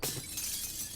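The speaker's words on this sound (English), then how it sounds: "I like broken glass." Glass shattering in the video game 7 Days to Die, a single loud bright crash with a short tinkling tail, heard alone without speech.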